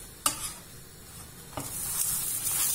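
Quesadilla tortilla turned over in a hot pan, giving a couple of sharp soft thumps and scrapes over a steady faint sizzle that brightens toward the end.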